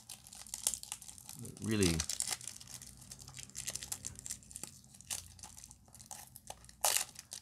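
Tough plastic packaging on a Tomica toy car box is crinkled and torn in close, sharp bursts with scattered crackles and rips, while a person speaks briefly.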